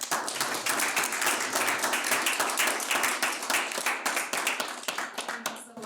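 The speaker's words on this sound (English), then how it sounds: "join me in applauding our speakers" Audience at a report launch event claps for the speakers, a close, brisk patter of many hands that holds steady, then thins into scattered individual claps toward the end.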